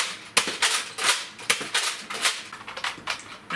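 Elite Alpha Trooper foam dart blaster fitted with an Orange Mod Works upgrade kit, firing a quick series of sharp, snappy shots, roughly a dozen close-up bursts in an uneven rapid rhythm.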